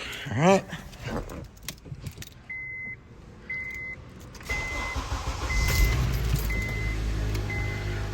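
Keys jingle and a 2003–2007 Honda Accord's warning chime beeps repeatedly, then the engine cranks and settles into a steady idle with a brief spoken question; the car has a power steering issue.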